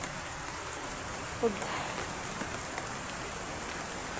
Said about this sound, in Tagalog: Dahil lalong lumalakas ng mga ulan.